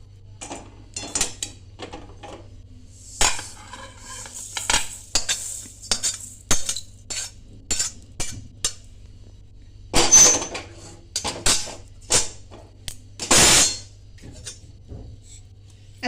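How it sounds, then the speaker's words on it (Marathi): Cumin and fennel seeds dry-roasting in a pan, heard as intermittent scraping and clinking of a spoon stirring against metal, with quiet rattling between the strokes and no talk. "सेम प्रकारेच आपण जिरे आणि बडीशेपसुद्धा भाजून घेणार आहोत"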